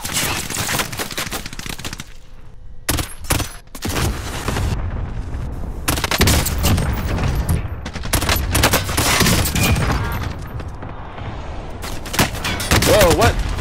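Famas rifle gunfire in the Warzone video game, heard in close-quarters combat: several loud, rapid automatic bursts separated by short pauses, with sharp cracks and some booming impacts.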